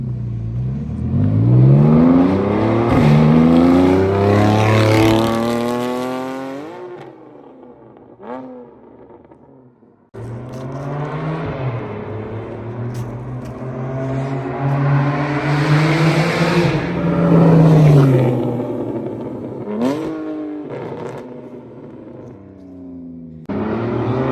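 A loud, raspy 2014 Audi RS5 with bad fuel injectors makes a flyby, its engine revving up in rising sweeps, fading out, then roaring back past at close range with strong acceleration.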